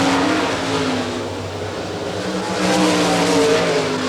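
Race cars roar around a dirt track on a white flag lap at Florida Speedweek in Barberville, a loud, continuous blend of several engines droning and revving close by with no pause.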